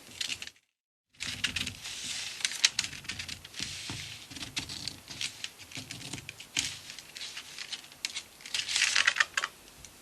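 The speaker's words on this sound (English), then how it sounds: "I'm going to cut the pattern out, and that's pretty easy to do. You just cut round that semicircle." Paper for a semicircle circle-skirt pattern is cut by hand, giving close, crisp crackling and rustling with quick irregular snips, broken by a short silence near the start.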